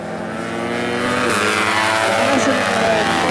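Racing motorcycles on a track give a loud, rising engine whine as they approach and pass, with commentary over it.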